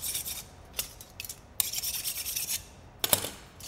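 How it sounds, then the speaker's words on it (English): Draw filing on scrap metal with a hand file, a series of rasping strokes of varying length, close and fairly quiet, with no talking. "sneaky draw filing?"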